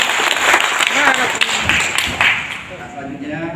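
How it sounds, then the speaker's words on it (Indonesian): Crowd applause at an organizational national meeting gathering, a broad wash of clapping from a large audience that swells then tapers, mixed with voices and speech over the top. "Tepuk tangan"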